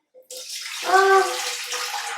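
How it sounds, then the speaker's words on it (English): Water pours from a container into a pot on a stove before apples go in for applesauce, a short, close gush with a rising, hollow ring as the pot fills. "Here's my water. I'm just going to pour in"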